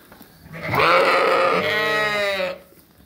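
Sheep bleat at a 5-foot-wide feeder in a barn, one long, loud, wavering cry lasting about two seconds, close and clear with no talking over it.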